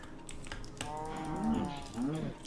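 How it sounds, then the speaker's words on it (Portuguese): Two drawn-out cow moos from Minecraft, the second following the first after a brief gap, with faint clicking keystrokes underneath. "agora eu encontrei uma vaquinha"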